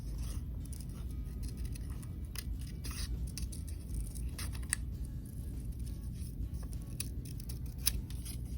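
Scissors snip through paper while a small paper heart is cut out, giving quiet, irregular cutting clicks over a low background hum, with no talking.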